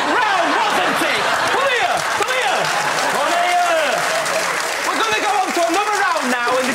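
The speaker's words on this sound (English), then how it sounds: "stop clapping, I'm talking!" A studio audience on a comedy panel show applauding loudly and continuously, dense clapping filling the whole stretch with a voice talking over it.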